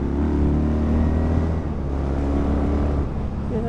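Engine of a Moto Guzzi V7 II Sport or Triumph Bonneville motorcycle revving under load, a loud, steady, rumbling exhaust note with a throaty bark throughout.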